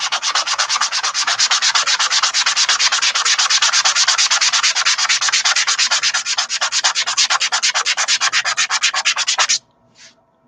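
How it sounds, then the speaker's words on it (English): Rapid, rhythmic sanding of wood as it spins on a lathe, a loud rasping scrape repeating quickly for several seconds before stopping abruptly. "Watching me sand."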